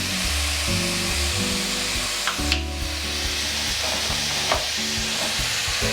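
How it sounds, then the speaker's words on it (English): Potatoes and minced meat stir-fry in a hot pan with salt, a loud, continuous sizzle broken by several sharp scraping and tossing strokes of the spatula, close up and without talk. "Let me continue to stir fry for another 30 seconds before I close the lid"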